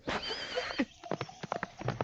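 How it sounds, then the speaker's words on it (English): A horse neighs loudly up close, then its hooves clip-clop away in a quick run of uneven strikes that stay fairly near, with no talk over them. "the farmer's son left the stable door open, and the horse ran away"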